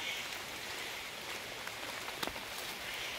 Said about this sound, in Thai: ฝนตกฟ้ามืดที่มืดล่ะ